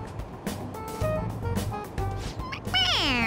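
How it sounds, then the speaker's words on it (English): Toy cat meowing when pressed on the head in the video game Persona 5 Royal, a single rising-then-falling electronic meow at the end over soft background music. "It meows when you press on its head."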